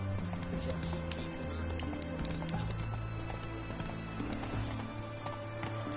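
Roach the horse gallops in The Witcher 3, rapid rhythmic hoofbeats running steadily throughout with a low game-world rumble underneath, close and moderately loud.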